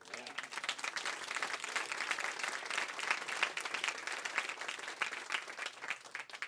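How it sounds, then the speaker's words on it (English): A crowd applauds warmly and steadily at a book-tour event in a Tampa record and book shop, dense hand claps sustained for several seconds without pause. "Can we give Matt a round of applause?"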